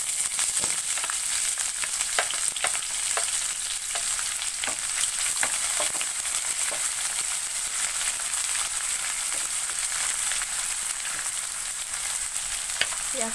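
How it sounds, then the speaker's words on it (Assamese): Chopped onions sizzle in hot oil with whole cumin seeds in a pan, a continuous close frying hiss dotted with frequent sharp crackles and pops, no voices. "এতিয়া ইয়াত মই কাটি থোৱা পিয়াজখিনি দি দিছো"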